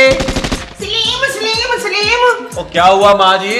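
Rapid machine-gun bursts crackle at the opening, then fade behind overlapping talk and a voice inside a home, with gunfire heard from outside.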